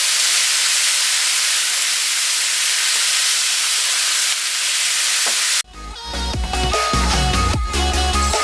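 Pork and beef browning in a pan, a loud, dense steady sizzle and hiss that cuts off partway, followed by clattering stirring and cooking noises close by.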